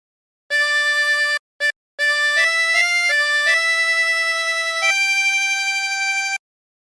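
A 24-hole tremolo harmonica plays a short phrase from the hymn "What a Friend We Have in Jesus": clear, bright reed notes, a few brief ones and then longer held tones, close and solo.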